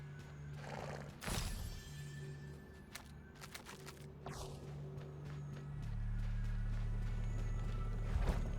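In the video game Weird West, a horse gives a few short whinnies and snorts close by, over a low droning game background that gets louder partway through.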